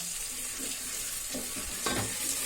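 Thick spice paste of ground garlic, ginger and onion sizzles steadily in a pan while a spoon stirs and scrapes through it in short strokes, close up and with no talking.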